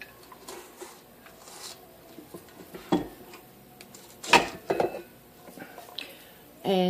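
Cookie dough for white chocolate chip macadamia cookies with walnuts being stirred in a bowl, with irregular soft scrapes and clinks of a utensil against the bowl, close by and fairly quiet.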